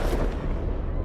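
A single shotgun blast in a video game trailer: one sharp, close report that decays into a short rumbling tail.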